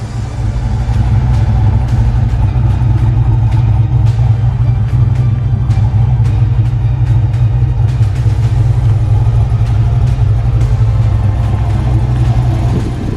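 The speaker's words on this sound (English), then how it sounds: "You can hear that new exhaust on there." An LS-swapped Ford Mustang with a new exhaust rumbles loudly and steadily at close range, a deep throbbing engine note holding at a near-idle throughout at an airstrip.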